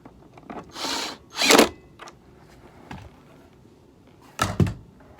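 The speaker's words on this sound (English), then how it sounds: "This is a variable speed and torque impact, so I'm just kind of torquing them down barely" A variable speed and torque impact driver snugs bolts down lightly while working on a Eureka Victory vacuum, giving three short close bursts of whirring, then a louder final burst after a pause.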